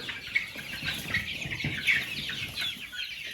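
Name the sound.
chicks clucking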